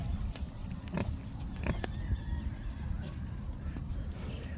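Pigs at a farm give low, soft grunts under a steady background rumble, faint and fairly distant, with scattered small clicks and knocks throughout.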